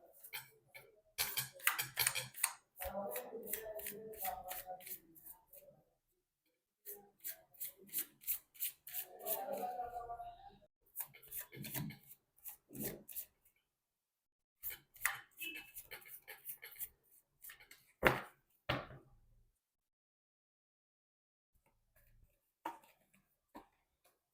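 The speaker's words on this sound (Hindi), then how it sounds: "मैं कर लेती हूँ कार्ड की शफलिंग।" Tarot cards shuffled by hand in bursts of rapid riffling and flicking, close and crisp, with short silent gaps between rounds and no talk.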